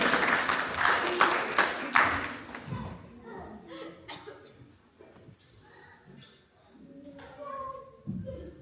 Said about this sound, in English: So let's clap our hands.